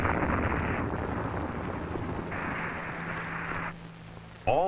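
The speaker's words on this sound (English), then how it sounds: "The missile is destroyed." A Titan II missile blows apart in a failed test, a long roaring rumble of blast and burning that holds steady, then drops away abruptly and ends in a short burst of other sound.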